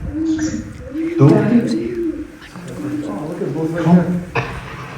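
Doves coo outdoors near Ireland's Hellfire Club, with soft, repeated low calls mixed under nearby people talking.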